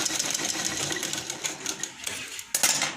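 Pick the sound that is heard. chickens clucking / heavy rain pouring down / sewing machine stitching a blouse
sewing machine stitching a blouse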